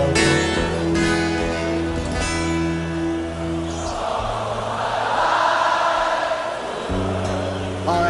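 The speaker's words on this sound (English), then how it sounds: "The crowd singing." A huge Brazilian stadium crowd sings along during Queen's Love of My Life at Rock in Rio 1985, the voices swelling as a broad wash over sustained tonal music.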